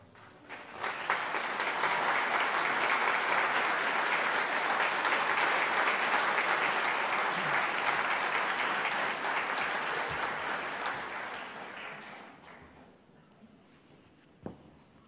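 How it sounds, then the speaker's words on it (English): Audience applause for graduates at a Faculty of Engineering convocation ceremony: sustained, full clapping from a large hall crowd that holds steady for about ten seconds, then tapers off into quiet room tone with one late stray clap. "Please join me one more round of applause for all of our graduates today."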